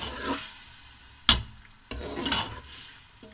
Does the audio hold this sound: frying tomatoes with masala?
yes